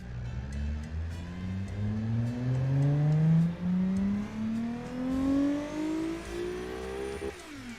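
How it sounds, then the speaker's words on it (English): Nissan/Datsun aluminum single overhead cam engine revving up in a long rising sweep, loud and close, then dropping back at the end with no talking. "It's got a very Datsun sound to it, or a very Nissan sound to it."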